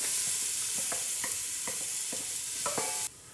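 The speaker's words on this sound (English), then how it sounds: "we're gonna go ahead and add in our onions and jalapeno peppers" Chopped onions and jalapeno peppers sizzling in a hot pan for collard greens, a steady loud hiss with scattered crackles and pops and a few stirring knocks, close up and without talk.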